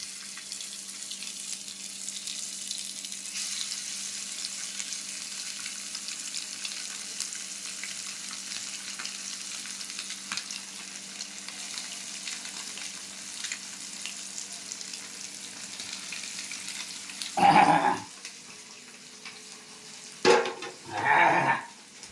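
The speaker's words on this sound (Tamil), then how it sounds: "அப்படியே மீனை பொரிச்சிருவோம்" Freshly caught river fish frying in hot oil, a steady low bubbling sizzle close by, then a few louder crackling bursts near the end as more fish go in, with no talking.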